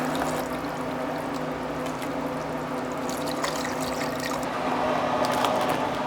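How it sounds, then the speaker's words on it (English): Reduced-sodium chicken broth pours steadily into a pot, a soft continuous splashing and trickling against a low background hum. "Now we're pouring 32 ounces of reduced sodium chicken broth."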